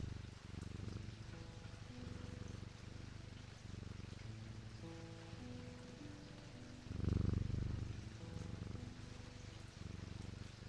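A cat purrs in a low, steady rumble that swells briefly midway, with soft tonal music faintly underneath.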